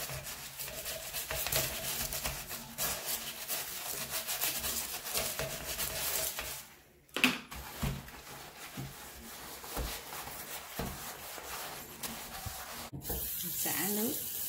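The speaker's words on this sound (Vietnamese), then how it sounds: "Ở đây á, thì mình phải dùng bằng cái chạy bằng chải nè." Brush scrubbing a bathroom sink basin, a steady close rasping rub that runs almost continuously, pausing briefly in the middle, with light clatter near the end.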